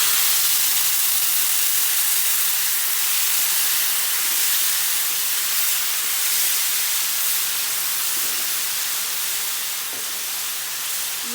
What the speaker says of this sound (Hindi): मेरी ये जो सेवइयाँ हैं ये अच्छी तरह ये फ्राई हो जाएंगे इसमें